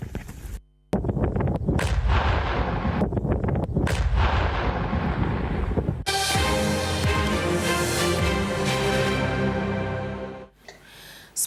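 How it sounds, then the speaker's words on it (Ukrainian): A powerful controlled detonation of a drone warhead at a demolition site booms at a distance, its heavy rumble rolling on for several seconds before a second roaring burst fades out. "транспортували до підривного майданчика та контрольовано знищили. Увага! Вибух!"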